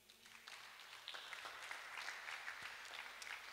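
Church congregation clapping together in a broad, sustained wash of applause, steady and fairly distant throughout with no voices rising above it.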